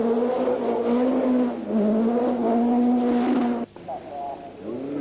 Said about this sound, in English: Jimmy McRae was having misfiring problems with his Chevette caused by fuel starvation